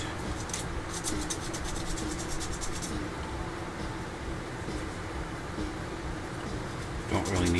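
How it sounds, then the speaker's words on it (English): Rapid, rhythmic scratchy strokes of sanding a seam on a small 1/35 scale plastic Sherman tank model for a few seconds, then quieter rubbing. "just a little bit of sanding should get rid of that seam"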